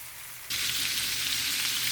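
Tofu, rice and vegetables fry in a pan, a loud steady hiss of sizzling that jumps up suddenly and then holds, with no voices.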